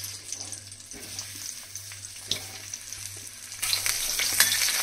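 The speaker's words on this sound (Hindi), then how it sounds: "ये हमने तेल गरम होने रख दिया है कढ़ाई में, और अब हम डाल देंगे ये टिंडे जो हमने मसाला भर के रखे हैं।" Masala-stuffed tinda going into hot oil in a kadhai, a steady close sizzle and crackle of frying with a few stirring clatters, growing louder and brighter near the end.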